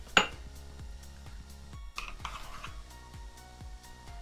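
Base ingredients for an aloe vera hair treatment being stirred together in a bowl, with a utensil tapping and clinking against the container in a steady rhythm, soft and close, without talk.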